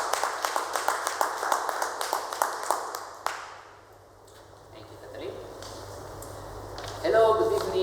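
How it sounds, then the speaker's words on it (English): A Toastmasters meeting audience claps for the host, a brisk close round of applause for about three seconds that stops abruptly, followed by quiet room tone and faint rustling. "give a huge, warm round of applause to our host"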